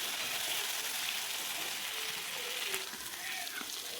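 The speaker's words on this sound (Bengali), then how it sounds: "কাঁচা লঙ্কা চেরা দিয়ে এটাকে সাঁতলে নেব" Raw pumpkin and slit green chillies sautéing in hot oil in a pan, giving a steady, close, bright sizzle throughout with faint stirring clinks.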